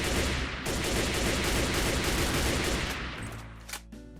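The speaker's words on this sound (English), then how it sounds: "So that's the M4 assault rifle." Sustained automatic gunfire from an M4 assault rifle in the Minecraft Techguns mod, a dense continuous burst lasting several seconds, then tapering off with a few metallic clicks at the end.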